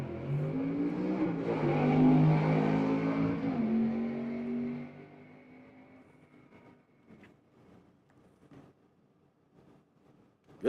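Gasser drag car roaring down the strip at Kilkare Dragway, Xenia, Ohio, loud rising revs through gear changes that fade into the distance after about five seconds, leaving faint rumbles and clicks.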